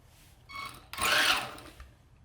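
The small electric motor of a 4x4 off-road remote control car whines briefly, then revs in a louder high-pitched burst of about a second before winding down.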